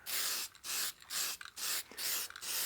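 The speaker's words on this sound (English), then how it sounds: "I always usually test the spray, make sure it's spraying out good before I put it on my piece" Clear spray lacquer fired in five short test bursts from an aerosol can, each a loud, hissing blast of about a third of a second separated by brief pauses, close to the microphone.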